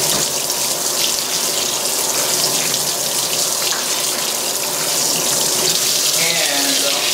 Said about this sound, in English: As usual, I'm just going to pop some water in there.